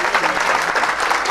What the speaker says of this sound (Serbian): Mislim da zaslužujemo da pozdravimo jednim aplauzom sve nas zajedno i svakog nas posebno